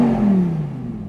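Lamborghini Huracan Tecnica V10 engine heard briefly, a loud tonal exhaust note that dips in pitch as revs fall away, fading into a low rumble.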